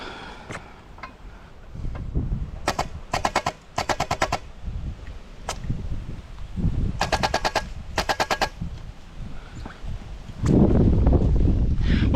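A custom HPA-powered airsoft gun chambered as a 50 cal fires several rapid bursts outdoors, each a tight string of sharp cracks, with gusty wind noise and rustling between volleys and a loud wind buffet near the end.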